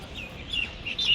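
Several large birds, likely ducks, call faintly from a distance. The calls come as soft, high chirping notes over steady outdoor background noise.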